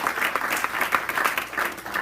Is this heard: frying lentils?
no